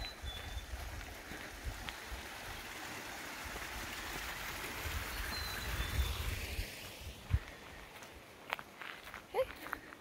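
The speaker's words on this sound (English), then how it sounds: "here's the overflow of the spring." Spring overflow water trickles faintly through a fenced meadow pasture as a soft, continuous wash under footsteps and rustling, with a few sharper knocks near the end.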